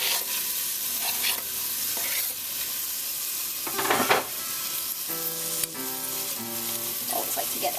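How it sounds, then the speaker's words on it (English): Garlic browns in olive oil in a pan over a high flame, giving a steady, close sizzle with occasional louder bursts and faint tonal sounds in the last few seconds. "So we've already put olive oil in our pan, and let's go ahead and brown up our garlic."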